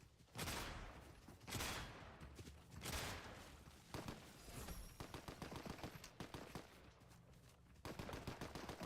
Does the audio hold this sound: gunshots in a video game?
yes